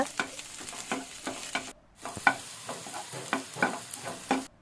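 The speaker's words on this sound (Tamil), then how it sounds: "இஞ்சி பூண்டு பேஸ்ட் ஆட் பண்ணி அதோட பச்சை வாசனை போகிற அளவுக்கு நல்லா வதக்கிக்கோங்க" Ginger garlic paste sautés with onions in a pan for a soya chunk curry: intermittent spatula scrapes and taps over a soft sizzle, with a brief pause midway, close and alone.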